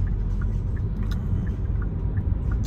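A car driving on a road heading northeast in southern Turkey, giving a steady low engine and tyre rumble from inside the cabin with faint periodic ticks, no talking.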